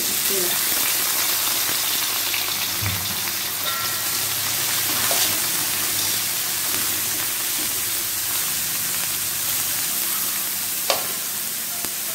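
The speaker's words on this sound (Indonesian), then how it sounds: "di sini saya sudah kasih panas minyak ya, untuk menggoreng rebon dulu" Dried tiny shrimp (rebon) fry in hot oil for a shrimp sambal, giving a steady close sizzle and crackle with a few sharper pops throughout.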